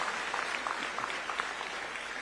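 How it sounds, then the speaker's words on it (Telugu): Steady applause from an audience at a speech by a chief minister in Singapore, a dense even patter of many hands clapping throughout without pause. "గట్టిగా చప్పట్లు కొట్టి అభినందించండి."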